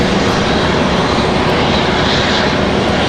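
A Frontier airliner taxis at Raleigh-Durham airport, its jet engines giving a loud, steady broadband roar that holds at constant strength from start to finish, with no voices.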